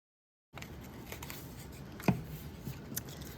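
Scissors snip through paper in a quiet, close scraping cut, with one sharper snip standing out amid soft rustling, no talk.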